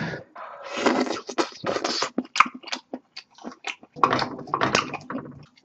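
Close, wet chewing and biting on stir-fried spicy squid in a thick seasoning sauce, with repeated bursts of mouth noise and crunchy squelches in an irregular rhythm, heard alone without talk.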